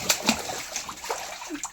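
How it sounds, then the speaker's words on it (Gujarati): Water splashes and sloshes in an outdoor swimming pool in a few quick bursts, close and fairly loud, with no talking. "પાણી ઉડી છે આમાં"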